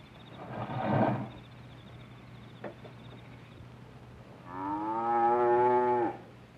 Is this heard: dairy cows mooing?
yes